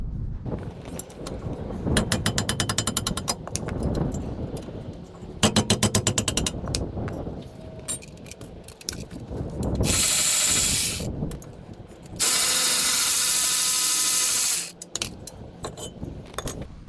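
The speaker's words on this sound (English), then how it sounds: "Removing the caliper mount. There's two bolts, one here and one here." A ratchet loosens the brake caliper mount bolts on a 2009 Toyota Sienna front brake, with bursts of rapid clicking, some clanking of tools, and two long loud whirring stretches near the end.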